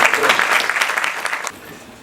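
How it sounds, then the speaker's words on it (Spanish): Lecture-hall audience at a university keynote in Trujillo breaks into dense applause for the guest, loud and continuous for a second and a half before tapering off quickly. "Medio aplauso para..."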